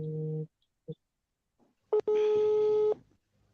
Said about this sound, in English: I think, Linda, your phone is ringing